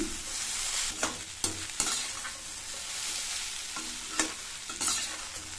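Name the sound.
stirring raw banana pieces cooking in a pan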